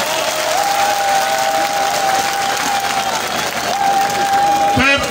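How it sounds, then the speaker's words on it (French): Loud, sustained applause from a large crowd at a political campaign rally in Congo, with cheering and a steady whistle-like tone running through it, the clapping continuing without a break throughout. "je voudrais d'abord que vous applaudissiez pour vous-même"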